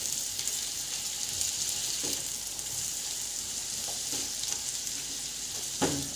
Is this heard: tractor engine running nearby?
no